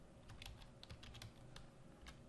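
Quick typing on a computer keyboard, a rapid irregular run of light clicks and taps, close and faint, with no talking.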